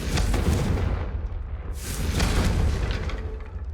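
A Confringo spell explosion in the Hogwarts Legacy video game, a loud, sustained booming blast with heavy low rumble, swelling again near the middle and rolling on to the end, with no talk over it.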